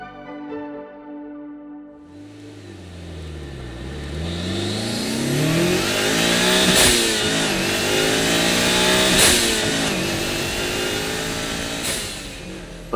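A Mitsubishi Lancer Evo VI turbocharged sports car engine idles, then revs hard and accelerates, its pitch climbing through several gear changes with sharp shifts, loud and close.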